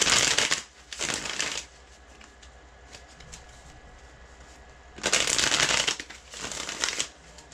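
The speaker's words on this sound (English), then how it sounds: "Let me shuffle this first." Tarot cards being riffle-shuffled up close, with two pairs of crisp flurries separated by a quieter pause filled with faint handling rustles.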